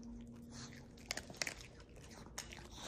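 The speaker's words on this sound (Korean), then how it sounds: "어저께 이 시간에 먹고 오늘 처음 먹는 거예요 두부" Soft crunching and biting as a dog recovering from cruciate ligament surgery eats kibble from a hand, irregular small crunches close by, faint and quiet.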